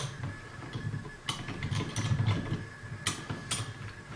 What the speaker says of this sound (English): Crank your vise up a little bit.